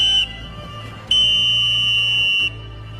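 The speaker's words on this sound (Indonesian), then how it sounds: "peluit panjang tanda berakhirnya babak pertama pun dibunyikan" A referee's whistle in an anime football match, Japan versus Nigeria, ends the first half: a short shrill blast, a brief gap, then a long sustained piercing tone that cuts off cleanly over a low background hum.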